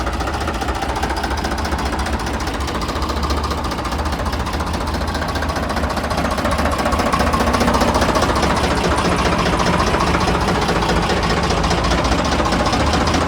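A tractor's diesel engine, a Ford 3610, idles loudly and close, its rapid knocking chug holding a steady rhythm with no talking.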